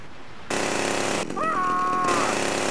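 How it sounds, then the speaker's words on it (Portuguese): A chainsaw in GTA Vice City starts abruptly with a loud, dense buzzing roar. It revs with a rising whine partway through and holds steady, with no talking. "Uma motosserra."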